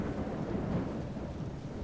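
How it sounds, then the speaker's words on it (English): A thunderstorm in Rome: Total War gives a steady low rumble of thunder with rain-like hiss, fairly quiet and continuous, with no voices. "Thunderstorm."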